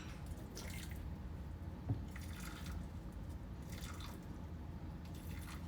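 Water trickles and drips at a sink while a transplanted Philodendron Pink Princess is watered, a soft, steady pour with faint splashes and one small drip, without speech.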